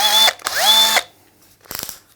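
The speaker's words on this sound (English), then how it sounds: "I'm going to go into high speed, high mode. I'm going to drill a hole" Panasonic EY79A3 18V brushless combi drill in high-speed mode, two short loud whirring bursts with a rising whine, then a pause and a brief rattling clicking burst.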